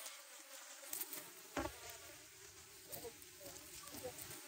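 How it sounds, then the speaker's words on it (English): Honey bees buzzing at an opened hive, a dense continuous drone close by with faint talk underneath. "Bees aren't happy, which I wouldn't be."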